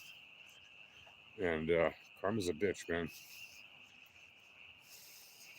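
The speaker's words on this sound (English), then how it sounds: "can you guys hear those frogs? So many frogs." Frogs croaking at night, a steady high chorus running continuously in the background while someone speaks briefly over it.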